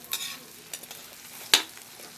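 Fresh ginger and turmeric root sautéing in a pan, a soft sizzle broken by a few light stirring scrapes and one sharper clack of the utensil near the end.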